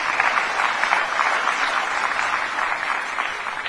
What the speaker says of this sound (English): Clap for yourselves, will you?